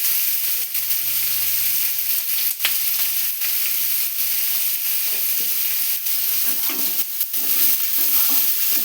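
Onions sauté with a pinch of salt in a pan, a loud, dense sizzle filling the whole stretch, interrupted by regular scraping strokes of a spoon turning them.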